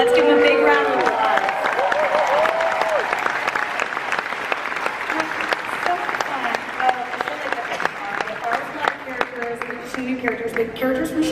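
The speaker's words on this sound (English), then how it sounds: "So let's give them a big round of applause." Comic Con panel audience breaking into loud, sustained applause with scattered cheers and whoops, a dense crowd of clapping hands filling a large hall for the full stretch.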